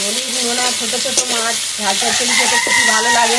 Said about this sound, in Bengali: মোরগটাও ডাকছে খুব